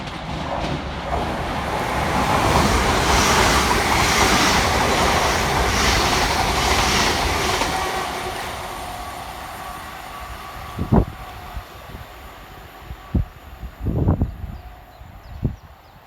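West Midlands Railway Class 730 electric trains rush through Barnt Green station, a loud broadband roar building and holding, then fading into scattered rail clicks and clanks as the carriages pass.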